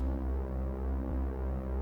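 Ambient black-metal piece by Ildjarn, Hate Meditation: a steady, loud drone of layered sustained tones with a deep low hum, slowly shifting and blending into one another, with no voice.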